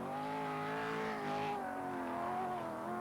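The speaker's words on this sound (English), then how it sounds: "This car has been specially built for the Paris to Peking long-distance rally." Tony Pond's rally car, specially built for the Paris to Peking long-distance rally, drives fast with a steady engine drone whose pitch wavers slightly, close and continuous, with no speech.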